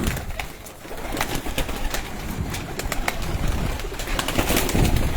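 Breeder pigeons coo and rustle in a loft, a steady murmur of overlapping soft calls close by, with occasional sharper bird sounds and a busy background that holds throughout.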